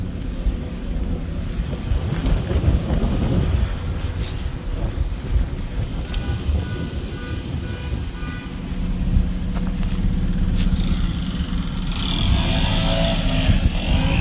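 An overheated car engine that was hard to start, suspected of a blown head gasket, burning coolant or a cracked head, runs at a steady loud idle with a rough low rumble throughout, growing slightly harsher toward the end.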